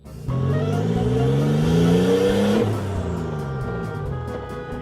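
Car engine revs hard at full throttle during a drift lesson, pitch climbing steeply for a couple of seconds before the revs drop and it settles into a steady, loud drone close by.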